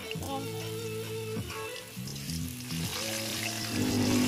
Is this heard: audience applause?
no